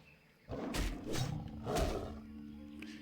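Tiger roars from the video game Classic World of Warcraft, two loud growling bursts close together over a low ambient game background.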